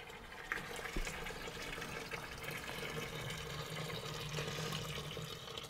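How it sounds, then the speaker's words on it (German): Chlorine cleaner liquid is poured into a hand-warm metal fuel tank being de-rusted, giving a steady wash of splashing and trickling liquid throughout, with a brief knock near the start and no talk. "So, ich gieße das jetzt mal rein und dann gucken wir mal, wie es aussieht."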